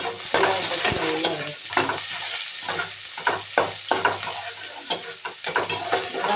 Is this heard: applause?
no